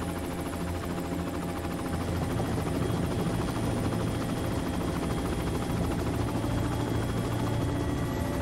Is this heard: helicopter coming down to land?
yes